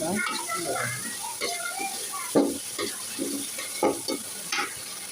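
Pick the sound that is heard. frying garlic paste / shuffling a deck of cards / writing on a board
frying garlic paste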